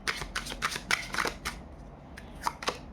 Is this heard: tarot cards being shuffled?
yes